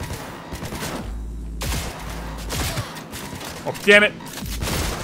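Rapid gunfire from a weapon shot from the hip in the Cyberpunk 2077 video game, bursts of shots mixed with game sounds while someone speaks briefly over it.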